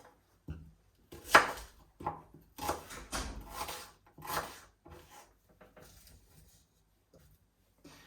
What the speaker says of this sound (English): So I'll chop everything, add it to the tomatoes, cook it down